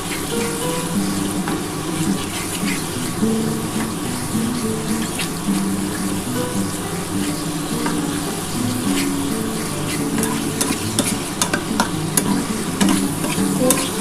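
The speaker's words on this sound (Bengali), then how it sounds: "ভালোভাবে কিন্তু এটাকে নাড়াচাড়া করতে হবে যতক্ষণ না এটা একটু শুকনো হচ্ছে" A spatula keeps stirring mashed banana stem in a pan, producing a continuous wet sizzle with soft scraping, fairly close and steady, with no talk.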